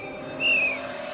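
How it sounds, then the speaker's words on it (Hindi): A single short, high whistle is blown inside a hospital, rising briefly and fading within a fraction of a second over a quiet room hum. "अरे हॉस्पिटल में सीटी कौन बजा रहा है?"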